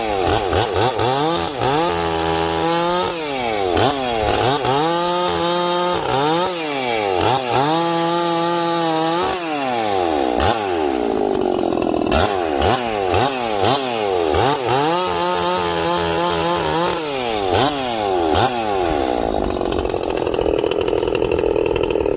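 Ported chainsaw on its first cut in wood, tuned to run rich, roars loud and close with a wavering, bogging pitch as the chain bites in and eases off repeatedly.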